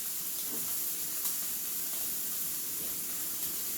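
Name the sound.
beef strip steak and onions sizzling in brown butter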